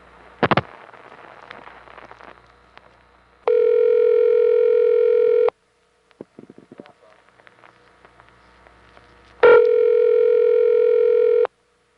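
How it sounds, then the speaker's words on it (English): Dial tone coming on in a 1976 Pentaconta telephone exchange in Rising Sun, Maryland, during an intra-office call from a payphone: a click, then a steady tone for about two seconds, quiet clicks, then the tone again. "here's an intra-office call in the Rising Sun Pentaconta, starting with dial tone coming on"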